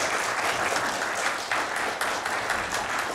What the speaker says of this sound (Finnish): Kiitokset yleisölle ja annetaan aplodit meidän esitykselle.